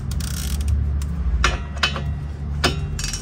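A ratchet works on a 17 mm bolt on the brake caliper of a Mitsubishi Eclipse, giving several close, short bursts of clicking over a steady low background hum.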